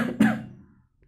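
A single sharp cough as a comic-story sound effect, one abrupt burst that fades out over about a second, close and fairly loud with no talk around it.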